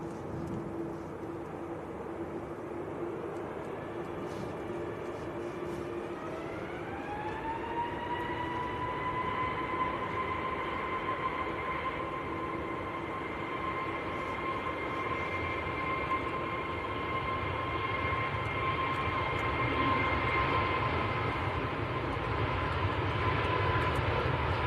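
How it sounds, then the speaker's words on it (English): A Lufthansa Airbus A319 arrives at Manchester Airport, heard from a distance as a steady jet engine roar that rises in pitch partway through and then holds a sustained whine, with no voices. "Patrick says there's another A319 coming in the form of a Lufthansa."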